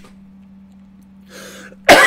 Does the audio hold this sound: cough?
yes